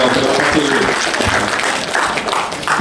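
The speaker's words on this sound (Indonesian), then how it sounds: "Tepuk tangan." Loud, close applause from an audience at a motivational seminar, thick overlapping claps with some crowd voices mixed in, continuing without a break.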